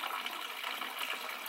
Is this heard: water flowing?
yes